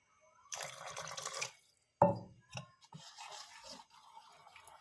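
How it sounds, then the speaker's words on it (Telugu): Water splashes and trickles into a bowl of wheat flour batter in short bursts, with a few drips and a thicker slosh partway through, close and fairly quiet. "కొంచెం వాటర్ వేసుకుందాం"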